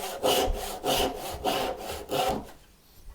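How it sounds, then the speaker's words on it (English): A hand saw cuts flat across wood for a half lap joint, four even back-and-forth rasping strokes, close and clear, then it stops. "then I level it out, cut flat across"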